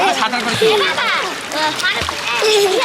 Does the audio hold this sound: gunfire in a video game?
no